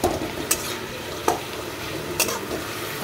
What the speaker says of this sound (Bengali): ভাজা হচ্ছে এখন